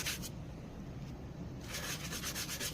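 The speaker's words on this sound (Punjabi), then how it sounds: "ਇਹਨੂੰ ਇੱਕ ਆਪਾਂ ਬੁਰਸ ਲਿਆ ਜੀ ਬੁਰਸ ਦੇ ਨਾਲ ਚੰਗੀ ਤਰ੍ਹਾਂ ਸਾਫ਼ ਕਰ ਦਾਂਗੇ ਜੀ" A brush scrubs with a homemade cleaning paste mixed with water, producing quick repeated rasping strokes that come in bursts at the start and end with a softer stretch between, fairly quiet and close, no voices.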